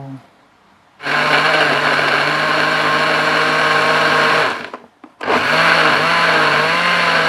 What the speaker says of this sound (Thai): ปั่นเสร็จแล้วมาเทใส่ เนียนสวยมาก